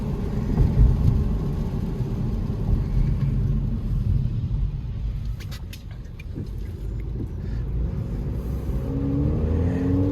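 A 2022 Honda Civic Sport fitted with an AEM cold air intake drives along at a normal pace, giving a steady low engine and road rumble that holds fairly constant throughout, with no talking.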